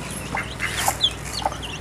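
Backyard rooster and hens give a few short clucks close by while grain is being scattered for them, with no talking.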